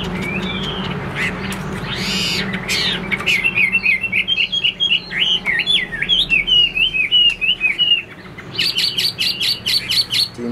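A caged Chinese hwamei songbird, set against a second caged bird, sings loudly and close in long, rapid, warbling phrases, ending in a burst of sharp repeated chirps.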